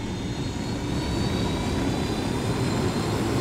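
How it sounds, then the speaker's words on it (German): Helicopter engine spooling up in the video game Ghost Recon Wildlands, a loud, steady whining turbine roar with dense low rumble, continuous and unbroken for a few seconds. "Oh, der Helikopter ist wieder da."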